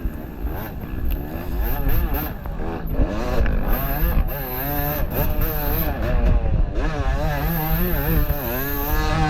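A Yamaha YZ250 two-stroke dirt bike racing at a national enduro, engine wailing close and loud throughout, revs climbing and dropping in repeated surges as the rider shifts through the trail.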